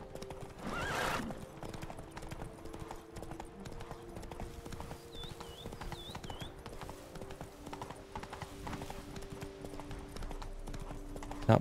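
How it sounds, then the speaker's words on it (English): Wild horses in The Witcher 3 video game: a rapid clip-clop of hooves runs throughout, with a loud neigh near the start and a few softer whinnies, and quiet background music underneath. "Oh, nice. Wild horses."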